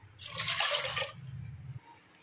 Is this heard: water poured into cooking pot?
yes